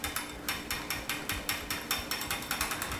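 A whisk beats eggs and cornstarch into milk for custard in a steady, rapid run of close, crisp ticking strokes against the bowl, evenly spaced and fairly loud with no talking.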